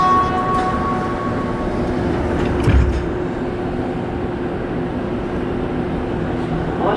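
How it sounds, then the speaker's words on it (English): A Montreal MR73 metro train on the Green Line, departing a station with a steady low rumble and whine, a brief thump midway, heard up close. "And now wait for our train to depart."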